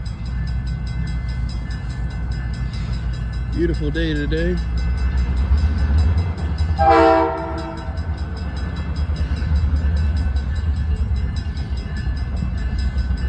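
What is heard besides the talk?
Iowa Interstate freight train passing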